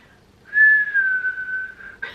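A single person whistles one sustained, slightly falling tone held for about a second and a half, close and clear, ending with a brief breathy burst.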